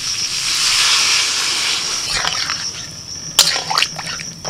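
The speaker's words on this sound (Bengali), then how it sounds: "মিনিট 7 মতো আলুটাকে আমি মশলার সাথে কষিয়ে নিয়েছি। এবার জল দিয়ে দিচ্ছি।" Water poured into a pan of spiced potatoes sets off a strong, steady sizzling hiss that swells early and then eases, with a few clinks and crackles near the end.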